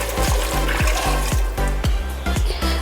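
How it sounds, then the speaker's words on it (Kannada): Water pours into an 8-litre pressure cooker holding paya soup ingredients, a close splashing gush broken by repeated metallic knocks in a rough rhythm, loud and with no talking. "ಇವಾಗ ನೀರು ಹಾಕೋಣ."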